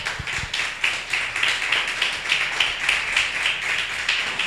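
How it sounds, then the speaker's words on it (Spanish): A church congregation claps together in a steady, fast rhythm of many hands. The applause is even and continuous from start to finish, with no voices over it. "Dale ese aplauso al Señor."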